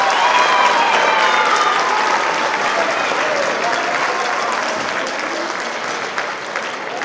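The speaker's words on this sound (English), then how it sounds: "Let's give them a round of applause." Sustained audience applause fills a school district band concert hall, a dense wash of clapping that holds steady and loud throughout before easing slightly near the end.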